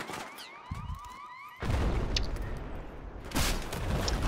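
A bomb explodes in the video game Battlefield 4 during a competitive match, a loud sudden boom that swells into a sustained rumbling blast after a quieter stretch of in-game sounds, with a second burst near the end.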